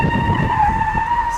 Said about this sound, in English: let the car start to slide, the harder it is to catch it